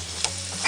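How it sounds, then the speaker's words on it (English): Onion sizzling in hot oil in a stir-fry pan, a faint continuous crackle with a low hum underneath and small pops. "when we add our next thing in, which is going to be our onion, it's gonna give a nice sizzle"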